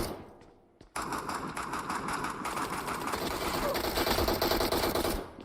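A weapon firing in the video game PUBG Mobile, a long rapid automatic burst of gunshots starting abruptly after a brief pause and continuing close and loud for several seconds, with no talk.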